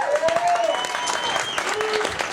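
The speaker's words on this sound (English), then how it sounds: "Give them a round of applause, please." An audience applauds the wait staff at a comedy show, a steady, close burst of clapping that lasts throughout, with faint whistles above it.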